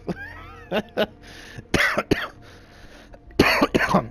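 Several sharp coughs and throat clearings from a person, loud and close, in irregular bursts separated by short pauses, with a faint game soundtrack underneath.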